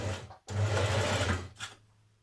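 A sewing machine stitches a dart in jersey fabric for a Simplicity 8874 dress, a close, steady whirring run of about one second after a brief start, then a short second burst as it runs off the end.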